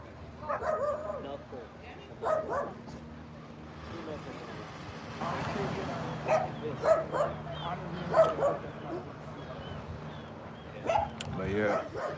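Dogs bark and yip in scattered bursts on a San Francisco street, some near and some farther off, with someone talking over much of it.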